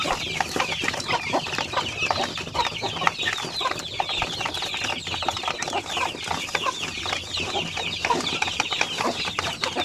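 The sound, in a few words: young chickens clucking on a farm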